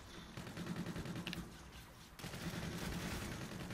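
Rapid gunfire in Call of Duty: Infinite Warfare crackles in dense bursts of automatic shots across the whole stretch, with a brief lull before more firing.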